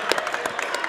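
Crowd at a varsity boys high school basketball game, Amityville against Half Hollow Hills West, clapping and cheering in a short, dense burst of applause with a few sharper claps standing out.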